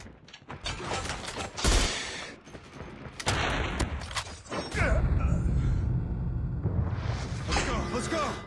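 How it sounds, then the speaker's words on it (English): Automated sentry gun firing in Call of Duty Mobile's Attack of the Undead mode, bursts of gunfire mixed with mechanical creaks and whooshes, fairly loud and dense across the scene. "Sentry gun deployed."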